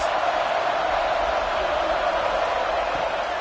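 A stadium crowd at an FSU football game roars in a dense, continuous wall of cheering, loud and sustained, with a commentator speaking over it.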